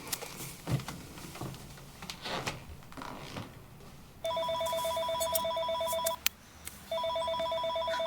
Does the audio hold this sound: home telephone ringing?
yes